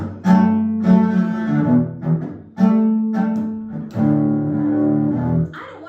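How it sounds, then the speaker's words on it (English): Chop rhythm technique on a string instrument, bowed tones broken by percussive scratchy chops in a lively fiddle-tune rhythm, close and solo with no talking. "put some chops in here. And that would sound like this."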